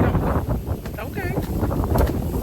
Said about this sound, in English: But the wind is blowing hard, y'all.